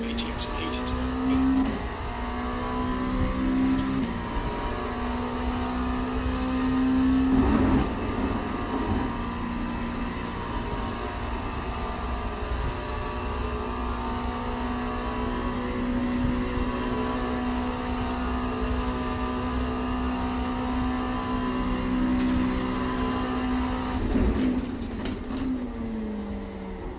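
Race car accelerating out of the pit lane at Spa in an IMSA session, a steady droning engine tone that climbs through gear changes and holds near and loud for the whole stretch.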